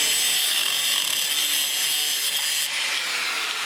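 A saw cuts an inch off a straight-piped Dodge Viper exhaust pipe with a steady, close grinding rasp that runs without pause.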